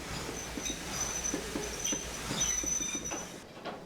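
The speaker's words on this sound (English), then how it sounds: "Steam trains are odd things." A steam train running in the Train Simulator game, with a steady low rumble, faint hissing and occasional high metallic squeals over a continuous mechanical bed.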